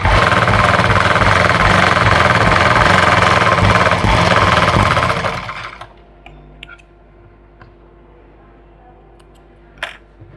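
A sewing machine runs a continuous fast rattling stitch along a salwar belt for about five seconds, loud and close, then stops, leaving quiet room tone with a few small clicks.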